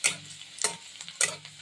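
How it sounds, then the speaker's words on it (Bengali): Chopped garlic is stirred briefly in a pan, with three sharp spatula taps about half a second apart over a soft, low sizzle. "বেশি লাল করব না রসুনটা, এমনি একটুখানি নেড়ে নেব"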